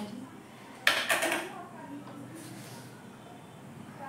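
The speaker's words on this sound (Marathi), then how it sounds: "सिंपल अशी फोडणी घातली माझी." Mustard seeds, cumin and curry leaves hit hot oil to temper a chutney, giving a sudden loud sizzle and crackle just before one second that fades over about half a second into quiet kitchen background.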